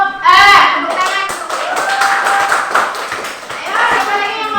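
Children in a fifth-grade maths classroom clap for a presenting group, a steady patter of hands under lively young voices and shouting.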